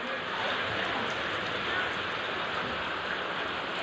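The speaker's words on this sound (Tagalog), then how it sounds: "Lakas pa ng ulan." Heavy rain pours steadily during a flood at a market compound in Hagonoy, a dense continuous hiss filling the whole stretch with no breaks.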